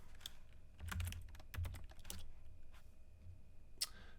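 Computer keyboard typing in scattered bursts of quick clicks, close and moderately quiet, during a hands-on storage cluster repair session, with pauses between keystroke clusters.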